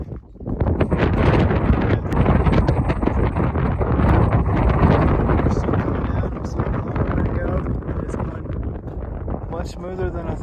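Wind blowing on a mountain hiking trail on Mount Elbert in Colorado, a continuous rushing rumble against the microphone that swells and eases over several seconds while hikers talk.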